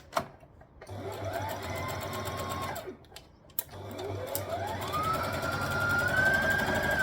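A sewing machine stitches light dress fabric in bursts, its motor whirring up with a rising whine, pausing briefly with a clunk as the needle stops to pivot, then running on again, close and steady.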